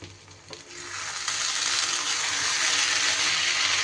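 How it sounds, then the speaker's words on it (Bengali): Pointed gourd curry (potol gobindo) being stirred in a pan after simmering covered on low flame, a steady close sizzle with soft scraping that swells after the first second and holds loud throughout, no voices. "একটু নাড়িয়ে চাড়িয়ে দেব।"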